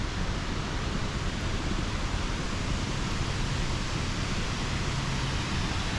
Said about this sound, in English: You can hear the falls.